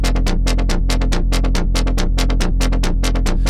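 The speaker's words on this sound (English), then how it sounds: "load up an instance of FM8 here and get a gnarly sort of bass tone going" A loud, gritty FM synthesizer bass tone from FM8 pulses in a fast, steady rhythm, dense and buzzy, with no talking.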